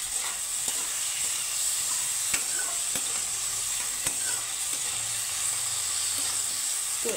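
Curry leaves dropped into a hot pan with tomatoes sizzle and crackle steadily throughout, with a few sharper pops and occasional stirring scrapes, close and fairly loud.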